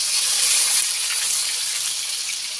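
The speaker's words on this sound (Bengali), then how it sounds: "এখন করছি গিয়ে উনানে চিকেন রান্না" Chicken cooking over a fire in a clay stove gives off a steady, bright sizzling hiss, loud and close, unbroken for the whole moment with no voices.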